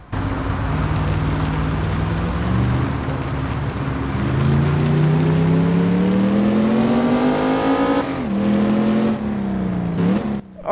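Classic car engine revving in the mobile driving game Car Parking Multiplayer 2: a steady idle climbs into a long rising rev, drops off, then rises briefly again, loud and continuous.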